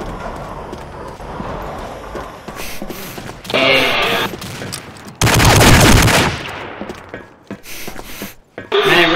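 Bursts of automatic gunfire from Combat Arms come in rapid volleys, loud and close, separated by short pauses, with one long sustained burst in the middle.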